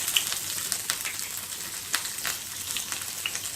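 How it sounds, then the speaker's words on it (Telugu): Curry leaves, green chili and grated ginger frying in hot oil, a steady close sizzle with scattered sharp pops and crackles, alone without talk. "తరిగి పెట్టుకున్న కరివేపాకు వేసుకొని వేయించుకోవాలి"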